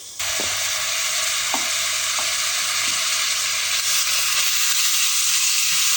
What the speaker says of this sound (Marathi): इथे कांदा परतून होतोय आपला सोनेरी रंगावर परतायचा आहे